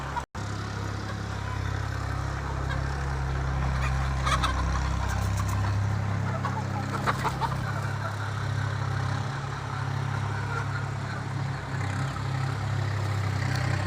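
Kadaknath chickens and desi hens on a farm give scattered clucks and calls. A loud, steady low engine-like hum runs throughout and partly masks them.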